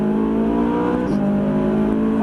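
A Ferrari 458 on the Croix-en-Ternois race circuit accelerates hard, its engine note loud, close and continuous with a rising harmonic pitch that steps through a gear change midway, with no voices over it.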